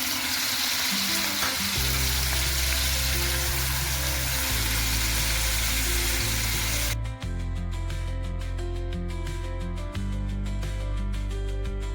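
Loud, steady sizzling of paneer frying in hot oil, continuous throughout with a dense crackling hiss and a sharper, brighter spatter in the later half.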